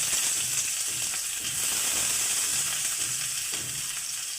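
Chopped onion and garlic fry in hot oil for a small tomato chutney, making a steady, close sizzle with faint stirring scrapes underneath.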